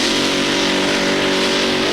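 Pulling tractor with a big multi-engine setup at the 1995 European Tractor Pulling event in Hörby, Sweden, roaring loud and steady as it starts its run, a dense continuous engine howl heard alone.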